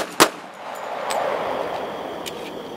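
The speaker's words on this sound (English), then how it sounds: "let me rock and roll with a 45" A single sharp .45 caliber pistol shot cracks close by at a night shoot, then fades into a dull lingering rumble with a couple of faint distant pops.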